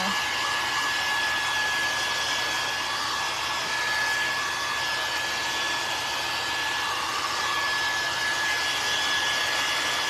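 A hair dryer runs steadily and close for about ten seconds, blowing loud, even air over craft wax and paint on a rustic farmhouse-style snowman craft. No one speaks.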